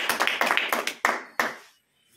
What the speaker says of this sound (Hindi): ऐसी कंपनी के लिए एक बार जोरदार ताली होना चाहिए